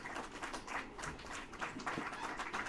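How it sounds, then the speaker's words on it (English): A conference audience applauds steadily at an international youth development event, dense overlapping claps sustained at moderate loudness throughout, with no speech. "A big round of applause, please, ladies and gentlemen."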